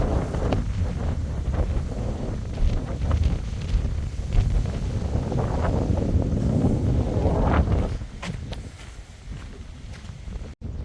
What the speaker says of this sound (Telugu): తుఫాన్ ప్రభావం అనుకుంటా గాలి మస్తుగా వేస్తుంది